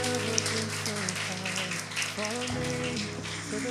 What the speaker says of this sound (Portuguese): Uma salva de palmas para os dois